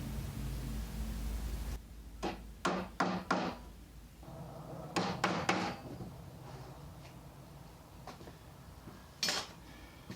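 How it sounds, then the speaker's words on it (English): A center punch is struck with a hammer into a plastic Mittleider garden seedling tray, a series of sharp metallic taps in quick clusters of three, close and fairly loud, with quieter handling knocks and rustles between them. "First I'm going to go ahead and center punch these so my drill bit does not move"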